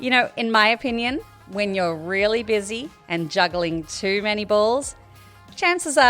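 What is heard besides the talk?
No distinct noise like a dog, phone or traffic.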